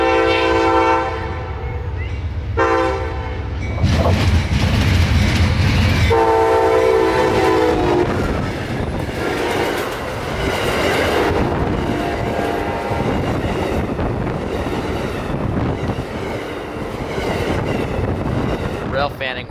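An Amtrak Silver Star passenger train passing a Florida station platform, led by a loud nearby horn blast, then the steady rumble and clatter of coaches, sleepers and a baggage car rolling by, with some talk nearby.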